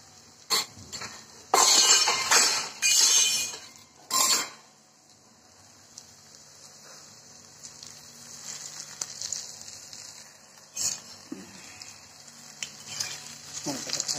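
Food deep frying in oil in a home kitchen, a steady faint sizzle running under bursts of louder clatter and scraping from pans and utensils.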